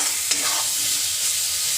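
Spices fry in hot oil for a white mustard gravy with fish roe, a loud, steady, close sizzle with faint stirring scrapes throughout and no talking.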